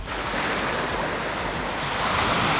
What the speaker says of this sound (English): The beautiful sounds of the ocean.